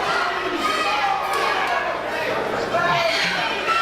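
Wrestling crowd in Sylacauga cheering at a live match, a lively murmur of chatter and shouts in the background, with a voice talking over it.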